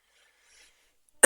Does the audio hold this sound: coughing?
yes